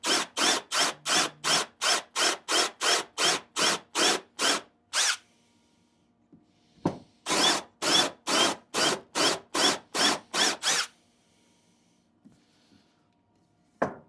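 A Forstner bit bores into wood for a birdhouse kit, heard as two bursts of rapid, evenly spaced drill pulses, loud and close, split by a short quiet pause, with no talking.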